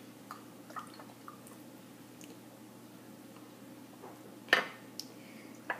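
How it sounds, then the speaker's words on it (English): A spoon stirs agave nectar into a cup of peppermint tea, making faint, scattered clinks against the cup over a quiet background, with one louder clink near the end. "So let's put a little bit more into your cup and mix that all up."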